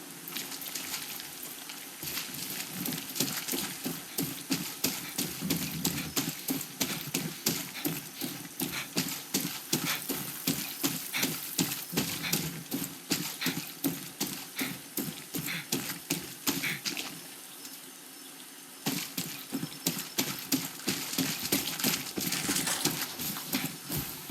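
Steady, rhythmic clip-clop of horse hooves trotting in the video game Far Cry 6, continuous and fairly close, with a brief slowdown near the end before the pace resumes.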